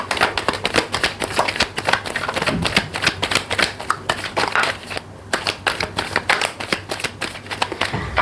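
Tarot cards shuffled by hand in a dense, rapid run of papery riffling clicks and slaps, close and fairly loud, with a brief pause midway before the shuffling resumes.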